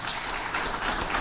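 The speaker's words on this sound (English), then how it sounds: "Another round of applause for him." Steady audience applause fills a hall at the launch of a nuclear power and energy strategic plan, a dense wash of many hands clapping, continuous and fairly loud for about a second.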